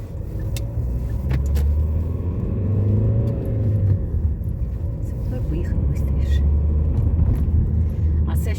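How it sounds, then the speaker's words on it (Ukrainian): A car rolls slowly through a city in a single gear, its low engine rumble steady and close inside the cabin, with faint clicks and road noise on top. "Так, це так повільно їду, щоб вже не перемикати швидкість"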